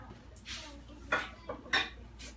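A kitchen knife is picked out among metal utensils and dishes, giving a few sharp clinks and scrapes in quick succession, close but fairly quiet against a soft room background.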